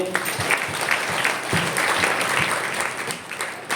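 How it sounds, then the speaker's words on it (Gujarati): A church congregation at a Gujarati worship service for Our Lady of Guadalupe breaks into loud, sustained applause, steady clapping filling the room for several seconds with no voices on top. "આપણે જોરદાર તાળીઓ પાડીએ"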